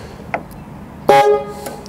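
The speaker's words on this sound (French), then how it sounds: "Est-ce que ça va tout simplement déclencher le klaxon en permanence?" The horn of a 1975 Chrysler New Yorker blares in a loud, sustained honk, preceded by a brief faint toot, heard close by.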